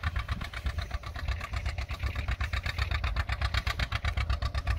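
A John Deere AR antique tractor runs nearby at an antique tractor plow day, its engine chugging in a loud, steady, rhythmic pulse throughout.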